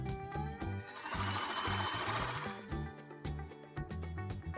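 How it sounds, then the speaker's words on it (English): Sewing machine stitching cotton fabric for a baby's bow headband, a close, fast rattling run of stitches that pauses briefly and starts again, loud and alone without speech. "and continue sewing to the end."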